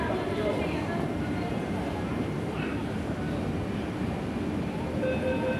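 Hong Kong MTR Island Line subway train arriving at its terminus, a steady loud rumble of wheels and motors filling the whole stretch with little change.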